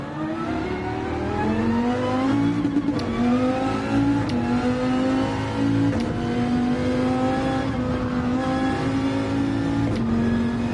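A Dodge Viper engine revving and pulling through gears in Gran Turismo 7, a steady loud droning tone that rises in pitch repeatedly with brief shift dips, alone without talk.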